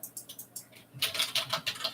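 Rapid keystrokes clatter on a computer keyboard, faint and sparse at first, then a denser, louder burst of quick taps, with no talking.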